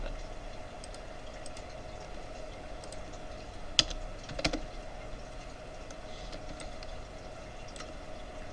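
Quiet keystrokes tap on a computer keyboard in a sparse, irregular rhythm over a faint steady hum, with one or two sharper clicks standing out near the middle.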